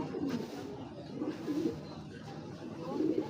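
A racing pigeon hen coos nearby in soft, low, repeated murmurs, with faint background noise around her.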